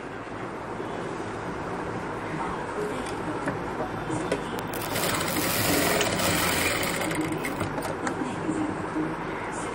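A sewing machine stitches cloth for a sherwani at a tailoring class, its faint rapid mechanical whirr and clatter running steadily and growing slightly busier midway, with no one speaking.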